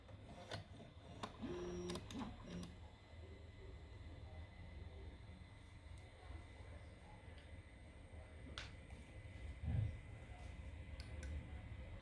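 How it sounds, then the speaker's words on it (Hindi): A homemade 3D printer drives its hot end back to the home position with faint stepper-motor whines and short buzzing moves, scattered light clicks and ticks, all quiet against a low room hum. "तो हॉट एंड होम पोजीशन में आ चुकी है"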